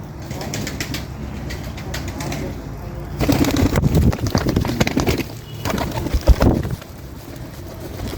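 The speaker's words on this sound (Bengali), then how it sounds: "আমার হাতে কিন্তু চলে আসে দুইটা কবুতর" Pigeons coo and flutter close by, their soft calls mixed with brief wing flaps and some handling noise, growing busier in the middle.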